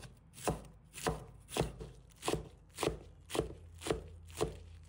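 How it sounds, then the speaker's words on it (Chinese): A knife chops a vegetable into thin shreds on a board, eight evenly spaced crisp strikes about every half second, close and clear with no voices. "把它清洗干净后切成细丝"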